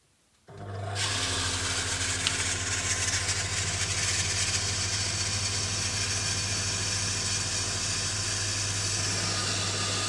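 A village water pump station switches on under load, jumping from near quiet into a steady loud motor hum with a constant low drone and broad hiss that holds unbroken.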